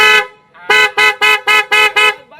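A Mahindra Bolero BS6 car horn, working again after a new 15-amp fuse was fitted, blasts loud and close: one short toot, a pause, then five rapid honks in a steady rhythm.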